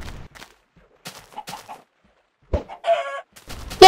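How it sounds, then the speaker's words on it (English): Chickens clucking in Minecraft, short sparse clucks and squawks with brief pauses, close and fairly loud, alongside other small game sounds. "Yay, baby chicken!"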